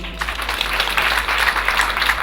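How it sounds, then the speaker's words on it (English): Audience applause at a career guidance talk on arts and sciences, a steady wash of many hands clapping at moderate volume with a low hum underneath, no voices over it. "Clap for me."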